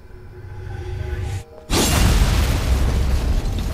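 A loud, booming explosion in the video game Stellar Blade erupts after a brief drop to near silence, followed by a sustained roaring rumble that fills the rest of the clip.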